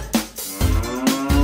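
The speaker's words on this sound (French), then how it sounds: "Vache." A cow moos in a children's educational nursery-rhyme setting, a few short low lowing calls in quick succession, close and fairly loud.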